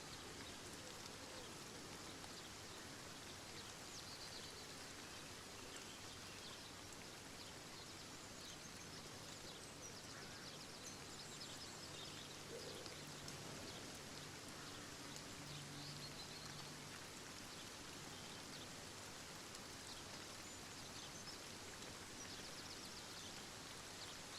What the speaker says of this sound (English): Look at how quiet it's gone with this rain.